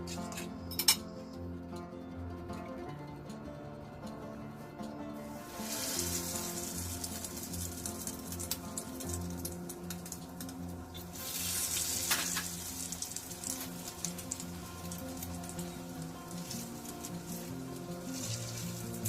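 French toast fries in a pan of oil with a continuous close sizzle, brightening into louder hissing bursts as pieces go in or are turned, with occasional utensil clinks and no voices.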